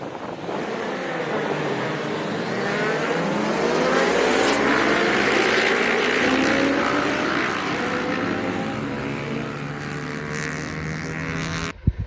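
A racing motorcycle launches from the start on a track, its engine roaring loudly and rising in pitch through several gear changes, then holding a steady high-revving drone with wind noise.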